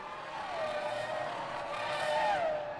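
A Formula One race car from the 2003 season spins, engine note whining and swooping through pitch changes as it slides, heard at a moderate distance with no talk.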